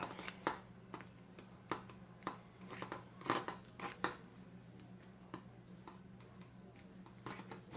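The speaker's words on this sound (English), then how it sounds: "So I'm just going to kind of cut a piece out and then we'll adjust it as we go." Scissors snipping through thin upholstery batting about 1/8 inch thick, cut for a living room corner chair: a string of soft, irregular close-up snips spread over several seconds, with a steady low hum behind them and no talking.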